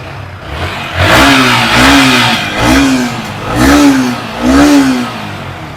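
A blue 2021-model used motorcycle engine revs in five rhythmic swells, each rising and falling, close and fairly loud over a steady mid-pitched running note.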